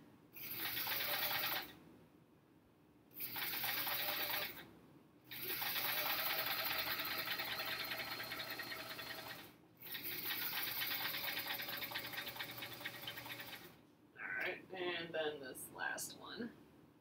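A sewing machine stitches quilt hourglass units in four close, whirring bursts of varying length separated by brief pauses, followed by a short stretch of lighter clicking and rattling.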